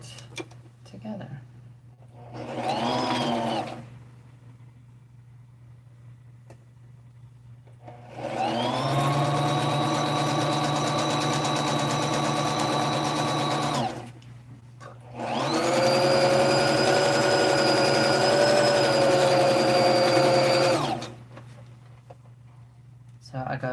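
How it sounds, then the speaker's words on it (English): A sewing machine stitches the seams of a Chucky doll body in three runs, a short burst followed by two longer steady passes of whirring motor noise, close and fairly loud, with quiet pauses between. "And now sew the rest of it together."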